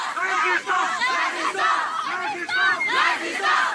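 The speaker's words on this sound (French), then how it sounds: "3000 manifestants à Orléans, une foule encore plus nombreuse qu'à la dernière mobilisation" Large crowd of demonstrators at a labour-law protest in Orléans chanting and shouting in loud, rhythmic bursts, several voices overlapping close by.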